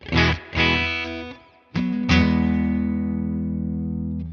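Distorted electric guitar chords through a Tone King Imperial tri-tube preamp pedal ring out, a few quick strums and then a long sustained chord that fades slowly with a spacious reverb tail, dwell set fairly low.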